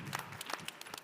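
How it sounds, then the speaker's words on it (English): A small audience gives scattered, faint applause at a weekend event, with individual claps standing out in an uneven rhythm over about a second. "I think it deserves a round of applause."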